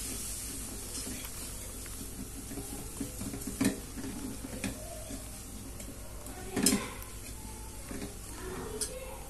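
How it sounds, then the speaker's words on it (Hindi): A spoon stirs a spoonful of flour as it roasts in a pan for homemade chicken buns, a soft continuous scraping and faint sizzle with a couple of sharper clinks, steady and quiet. "अब 1 चम्मच मैदा डाल दें। इसको भी अच्छी तरह से हम भूनेंगे, चम्मच चलाएं जल्दी जल्दी इसका।"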